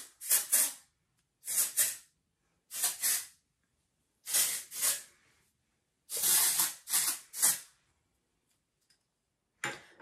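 Several short bursts of aerosol texturizing hair spray hiss in quick succession, close and fairly loud, separated by brief silences.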